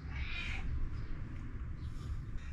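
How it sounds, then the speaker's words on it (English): A house cat gives a single faint, drawn-out meow early on, quiet against low background rumble. "Stop meowing at me."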